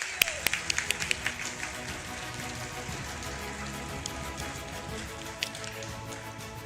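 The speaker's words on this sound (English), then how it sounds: "show appreciation through a lusty round of applause" Scattered applause at a school awards ceremony, a few sharp claps at first and then a faint, steady patter of distant clapping that goes on throughout.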